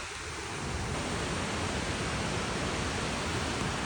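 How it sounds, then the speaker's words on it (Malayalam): A large waterfall beside an off-road trail near Vagamon roars as a continuous, dense, even rush that fills the whole clip, with no voices. "ഒരു വലിയ വെള്ളച്ചാട്ടം"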